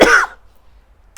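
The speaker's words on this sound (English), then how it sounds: "Excuse me, I'm just going to cough." A single short cough, loud and close, cut off quickly and followed by near silence.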